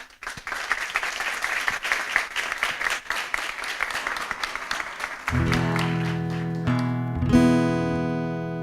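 Scattered applause from a studio audience on a Saturday variety show, uneven and moderately loud, gives way after about five seconds to sustained music with held tones.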